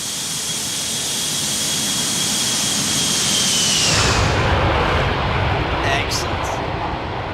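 A Felis 747-200 jet passing overhead in X-Plane 12, a loud roaring engine rush with a whining tone that swells and then shifts as the aircraft goes by.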